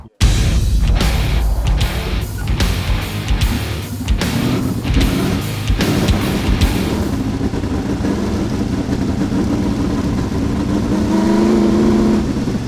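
A 900hp V8 sprint car engine roars on track, revving hard with rapid throttle blips and gear-like surges early on, then settling into a sustained loud, steady drone close to the listener.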